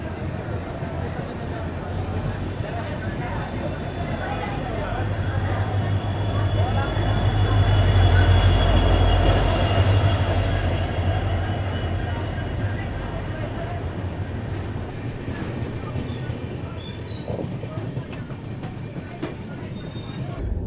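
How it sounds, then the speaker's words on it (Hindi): A passenger train on the Jaipur to Hyderabad line pulls away from a station after a two-minute stop, its rolling rumble swelling midway and then easing off, with voices nearby. "देखिए सिर्फ 2 मिनट की ट्रेन रुकी और चल पड़े"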